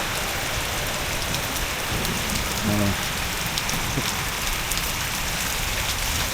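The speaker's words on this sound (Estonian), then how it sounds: "vihmaveerennist tuleb vett korralikult" Heavy rain pours steadily onto roofs, and water gushes from a roof gutter in a dense, unbroken hiss, with a brief low rumble partway through and no voices.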